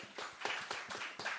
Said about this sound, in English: Give us a round of applause for her.